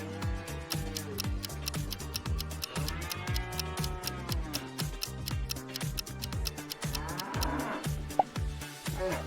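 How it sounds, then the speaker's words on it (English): Cattle moo repeatedly and close by, with a steady ticking or clicking sound running underneath throughout. "A bear managed to get too close to cows."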